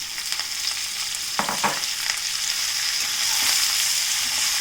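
Bachali (Malabar spinach) goes into a hot pan and sizzles steadily, with a few stirring scrapes over a continuous frying hiss.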